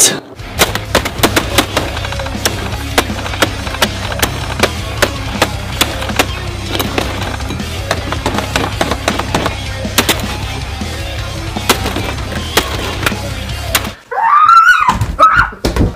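A Tesla car is smashed with a long burst of hard, rapid banging impacts that go on for about fourteen seconds, followed by a short, shrill vocal cry at the end.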